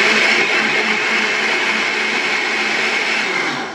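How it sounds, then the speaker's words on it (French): A blender whirs loudly and steadily as it purées gazpacho, a continuous dense motor roar that eases slightly at the end, with no voices. "D'abord, on mixe."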